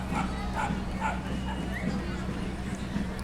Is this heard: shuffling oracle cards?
no